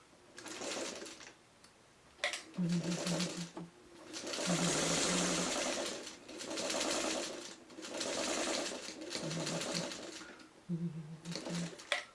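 A hand-crank sewing machine stitches through a pinned, bulky orphan quilt block in bursts of steady mechanical whirring, several separate runs with pauses between them, close and fairly quiet.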